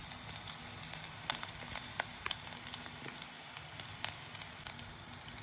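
Onion and fenugreek fry in hot oil for a curry, giving a continuous close sizzle with crackling pops and spits scattered throughout, with no talking.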